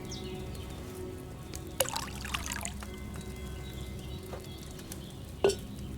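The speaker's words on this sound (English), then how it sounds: "So, what did you pour in there? Wine, of course." Wine is poured from a pitcher into a cauldron in Kingdom Come Deliverance II. It makes a soft, steady trickle, with a sharp clink near the start and another near the end.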